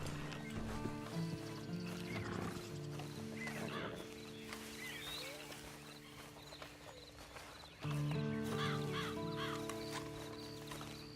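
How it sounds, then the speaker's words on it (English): Horse hooves clopping with a whinny and snorts over a steady tonal background, with a louder burst near the end, in Red Dead Redemption 2. "you better get on this horse"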